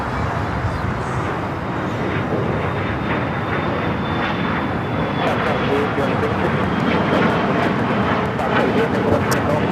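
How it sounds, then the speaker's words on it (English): An American Airlines Boeing 777 taking off from LAX, a loud sustained engine roar that holds steady and slowly builds, with a continuous rumbling body and no talk over it. "couple of American 777s going to be taken off"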